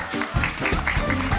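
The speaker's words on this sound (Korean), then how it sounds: "박수." A camp audience applauds a middle-school performer, quick bursts of clapping over a busy, reverberant room with voices and music-like tones underneath.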